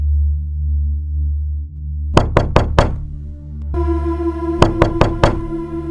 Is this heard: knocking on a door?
yes